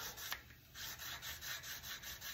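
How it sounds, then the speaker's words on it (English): Fine 600 grit sandpaper rubbed over the top of a Les Paul guitar body kit, soft rhythmic back-and-forth scratching strokes, close and quiet with no talking. "so I can sand down the top pretty good too"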